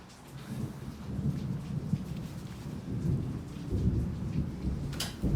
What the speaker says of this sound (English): Nice little relaxing bit of thunder out there.